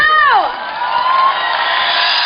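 At a K-trot concert at the Yeongdo Bridge festival, an outdoor audience for a singer cheers and whoops, opening with a rising-then-falling shout before a steady wash of crowd noise and possible clapping, mixed with voices.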